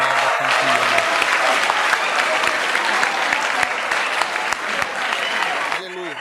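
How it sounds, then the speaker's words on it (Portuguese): Congregation applause at a church service in Accra, Ghana: a dense, loud, continuous round of clapping from a large crowd that lasts about six seconds, with a voice talking underneath near the end. "Bata palmas para você mesmo, você é uma mega campeã."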